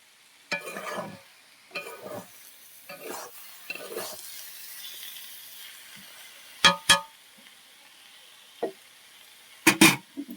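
Red amaranth greens fry in a pan, heard as short bursts of stirring and scraping with a light sizzle between them, then a few sharp utensil knocks near the end.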